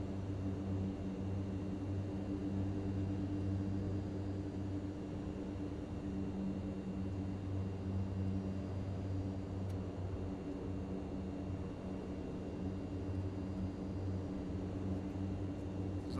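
Simulated Mitsubishi MU-2 turboprop rolling out on landing with reverse thrust in a flight simulator, a steady loud engine drone with constant low tonal hum throughout, no talking.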